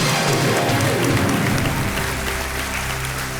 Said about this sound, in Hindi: और एक बार फिर तालियों के साथ आपका हम स्वागत करते हैं